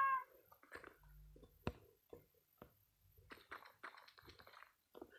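A cat in Minecraft meows, with several short mewing calls and clicks spread across a quiet game soundscape, moderately close and with no talking.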